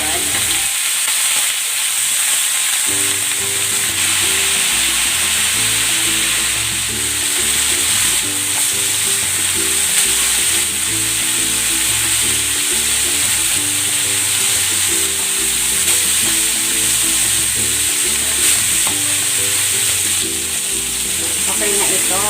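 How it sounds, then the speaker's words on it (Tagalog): Pork ribs sear in a little cooking oil, giving a loud, steady, close-up sizzle with repeated stirring and scraping of the pan, with no voices. "Maglalagay ako ng konting mantika. Ayan, okay na yan. Isasangkot siya ko muna itong pork ribs."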